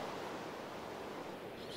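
Water poured from a bucket in a Minecraft-style survival game, a steady rushing, surf-like wash lasting the whole short moment, moderately loud with no talking over it.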